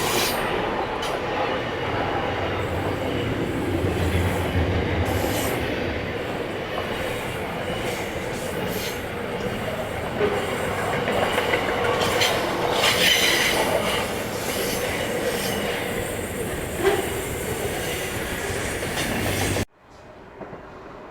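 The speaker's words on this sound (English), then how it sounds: "We have NR classes passing platform number 2. NR59 is the leading loco, followed by NR78 and NR47." NR class diesel locomotives NR59, NR78 and NR47 roll through a station platform at Koolewong, a steady loud rumble with wheel squeal and clatter lasting nearly twenty seconds before cutting off abruptly.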